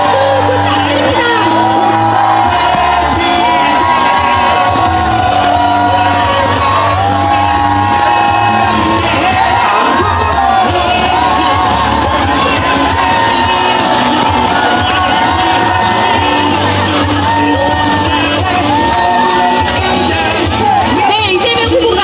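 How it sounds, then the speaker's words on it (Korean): A large crowd at an outdoor presidential campaign rally in Yeosu, South Korea cheers, whoops and shouts loudly without pause, with voices carrying over the steady roar of the audience. "대통령 후보 이재명 후보에게 뜨거운 박수와 박수 부탁드립니다."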